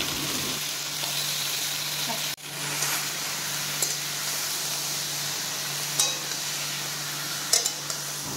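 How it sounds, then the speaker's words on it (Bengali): Chicken pieces frying in hot oil with ginger garlic paste for a Pakistani-style curry, a steady close sizzle with a brief drop partway through and occasional light clinks of a utensil against the pan. "কিছুক্ষণ ভেজে নিয়ে এর উপরে দিয়ে দিব মাংসর পিসগুলা"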